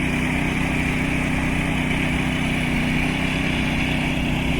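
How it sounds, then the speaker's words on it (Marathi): A tractor engine ploughing a field drones continuously at close range, a constant low rumble with no breaks and no voices. "आमचं दिनेश गुरव मेस्त्री बघा तो ट्रॅक्टर करता तो बघा इकडे"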